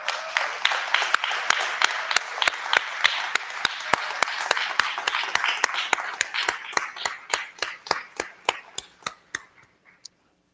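An audience at a ribbon cutting ceremony applauds, with dense clapping that thins into slower, evenly spaced claps before fading out.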